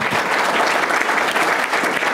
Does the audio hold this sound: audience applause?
yes